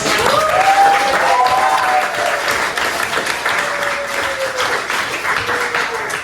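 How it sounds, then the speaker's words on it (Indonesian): Applause from students in a classroom during a PLC control-systems lesson, loud, dense clapping filling the entire stretch while a few voices and cheers rise above it. "beri tepuk tangan dulu"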